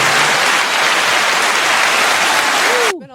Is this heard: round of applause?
yes